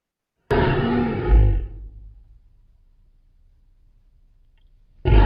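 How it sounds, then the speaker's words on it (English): A lion roar sound effect from the Filmora video editor plays with a sudden start. The roar is loud, rough and sustained, then trails off into low rumbling, and another loud burst begins at the end. "There's a lion roar."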